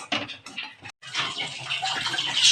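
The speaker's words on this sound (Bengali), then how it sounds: "এই সবগুলো ধুয়ে নিচ্ছি" Running tap water splashes over utensils being rinsed in a home kitchen while loitta fish paratha is made. The rushing, hissing wash is steady and close, broken by one brief pause.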